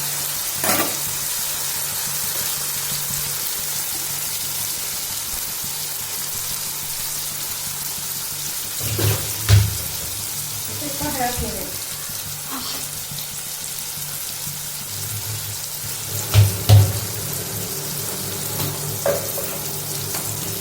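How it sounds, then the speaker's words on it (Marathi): A mixture cooks in a pan over a steady frying sizzle, with a few louder bursts of spoon-stirring and scraping standing out against it; no one speaks. "मस्त मिश्रण हलवून घ्यायचं छानसं."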